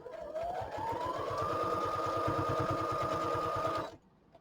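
Sewing machine straight stitching across a paper tag made from field guide pages: a fast, even run of needle clatter that rises in pitch as it speeds up, holds steady, then stops abruptly near the end.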